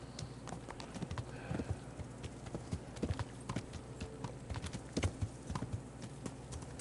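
Horses' hooves clip-clop in the medieval video game Kingdom Come Deliverance, an uneven run of close, distinct knocks on the ground beneath a soft ambient bed.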